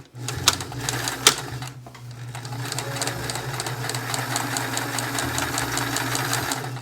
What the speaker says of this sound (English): I could take this over to the sewing machine and just sew this in place right below the piping with some nice top stitching